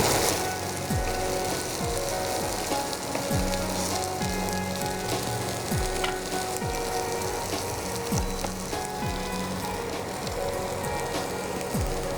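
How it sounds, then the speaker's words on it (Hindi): Kasuri methi aloo, potatoes with dried fenugreek leaves, fries in a pan with a steady dense sizzle, close and continuous, with occasional soft stirring scrapes and no talk. "बस इसे थोड़ा सा फ्राई करके"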